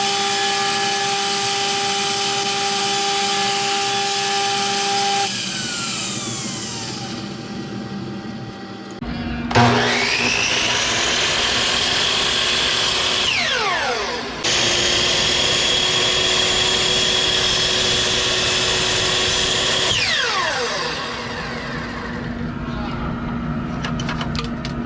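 A table saw rips square strips of holly wood in several passes, its whine dropping under load and rising again between cuts, loud and close with no talk.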